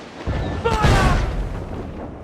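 Ship cannons firing during a naval battle in Assassin's Creed 4: Black Flag, a heavy booming blast that swells and rolls off over a couple of seconds, with shouted voices mixed in around it.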